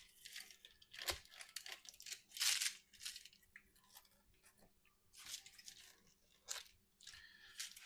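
A knife cuts through a tray of magic bars with soft crunching, tearing strokes in an irregular rhythm, close and fairly quiet, with no voice.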